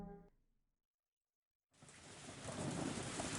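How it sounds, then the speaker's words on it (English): Heavy rain in the video game Higurashi: after a brief low rumble of distant thunder fades to silence, a dense downpour starts abruptly and holds as a loud, steady broadband roar. "Just then, there was thunder in the distance, and a heavy rain started pouring down."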